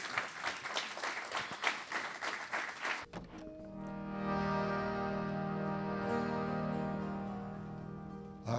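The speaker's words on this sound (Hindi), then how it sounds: "तो भरपूर तालियों में इस्तकबाल करें खान साहब, सलामत अली ख़ान साहब का।" A concert audience in Mississauga claps loudly for about three seconds to welcome Ustad Salamat Ali Khan, then the applause gives way to sustained, drone-like instrumental tones.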